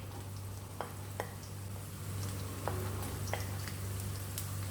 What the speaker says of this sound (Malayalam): ഒന്നും കൂടെ ചൂടായി കഴിയുമ്പോൾ ചുവന്നുള്ളി അതിനകത്തിട്ട് നമുക്ക് ഒരു നല്ല ബ്രൗൺ ആകുന്നവരെ, ഇപ്പം ആയി വരുന്നുണ്ട്, നല്ല ബ്രൗൺ ആകുന്നവരെ വഴറ്റിയെടുക്കണം